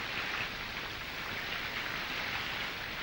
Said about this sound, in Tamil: மாப்பிள்ள இத சாதாரண மழைன்னு நினைச்சுக்காதீங்க.